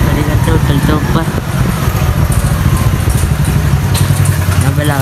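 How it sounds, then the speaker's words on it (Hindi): A motorcycle engine runs loud and close with a steady low rumble while the bike is pulled into a plaza parking area, and voices and ambient noise mix in throughout. "बाइक फटाफट से खड़ी करते हैं"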